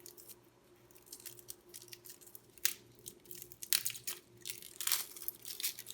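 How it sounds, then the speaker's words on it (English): An onion being peeled and cut by hand: crackly tearing of papery skin and crunchy knife cuts, with irregular bursts that grow louder and busier in the second half, close up and with no talking. "We're gonna be peeling that onion, wow."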